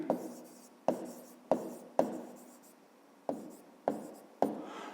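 Pen or pencil writing by hand on paper, a quiet sequence of separate strokes and taps at irregular intervals, close and alone.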